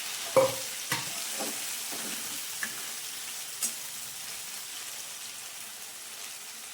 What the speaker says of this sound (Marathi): खडे मसाले परतून झाले का त्यामध्ये ही जे आपण पेस्ट केलेली आहे ती टाकून घेते